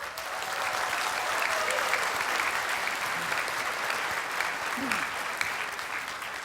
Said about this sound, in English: So let's give yourself a round of applause.